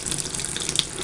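A faucet runs steadily as soap lather is rinsed away in a sink, a continuous close splashing hiss with small surges, no voices.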